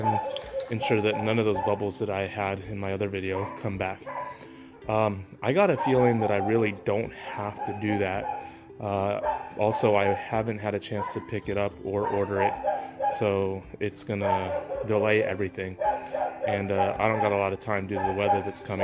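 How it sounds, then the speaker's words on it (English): Dogs bark and yip intermittently in the background at a home garage while someone talks steadily over them about work on a Mazda Miata hardtop. "Super sorry about the dogs."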